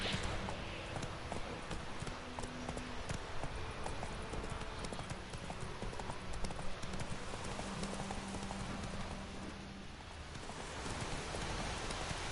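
Roach's hooves clip-clop in a fast gallop across The Witcher 3 world, steady and fairly faint, mixed with rain-like hiss and light ambient game sound.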